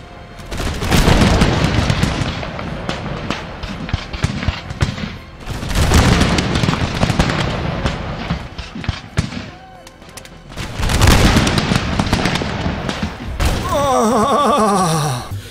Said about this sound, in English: and the musket fire. Oh, get ready for some musket porn, baby.